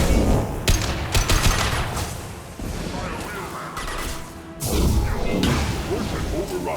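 Dense, loud gunfire from the video game Mass Effect 2, with sustained automatic bursts, impacts and crashes running nearly continuously, and a brief dip partway through before the fire resumes.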